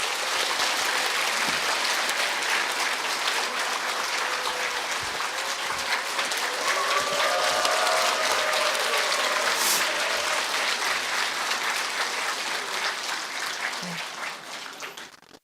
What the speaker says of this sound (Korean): 교수님께 존경과 감사의 마음을 담아 큰 박수 부탁드립니다.